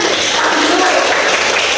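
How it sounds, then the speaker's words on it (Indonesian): Students applaud together in a classroom during an Islamic studies lesson, a dense, steady wash of clapping hands filling the short moment at close range. "Betul sekali, pintar semua, tepuk tangan."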